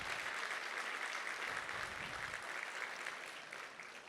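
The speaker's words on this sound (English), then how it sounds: "how about a round of applause for the staff tonight and the meal" Guests at a business annual dinner give the staff a short, steady round of applause that fades slightly toward the end.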